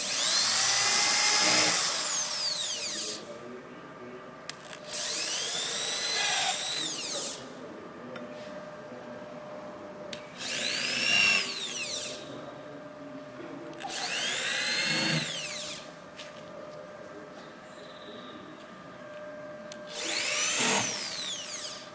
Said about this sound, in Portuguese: vamos executar esses furos.